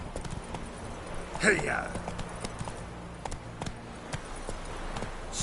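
Hoofbeats of Roach, the horse in The Witcher 3, a steady clip-clop of galloping with a rider's shout partway through and game ambience beneath.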